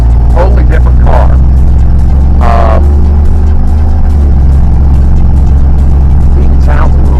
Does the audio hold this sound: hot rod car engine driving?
yes